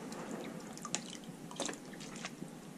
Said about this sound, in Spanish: vamos a echarle chorrito de vinagre de limpieza